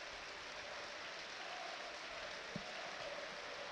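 A crowd of football fans on their feet in a stadium applauds in a steady, distant wash of clapping, with one brief thump partway through and no clear speech.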